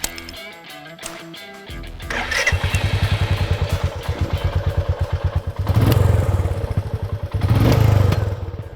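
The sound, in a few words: Royal Enfield Meteor 350 motorcycle engine starting and exhaust note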